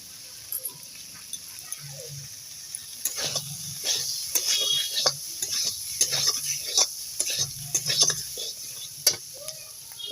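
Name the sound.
potatoes frying and being stirred with spices in a pan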